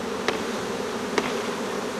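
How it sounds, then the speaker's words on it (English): A dense swarm of honey bees buzzes close up as it is poured into a hive box, a steady droning hum with two brief soft knocks. "Here we pour the bees."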